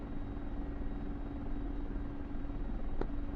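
A helicopter in the DCS flight simulator drones steadily with a low rotor and engine hum, continuous and fairly loud, with one brief click near the end.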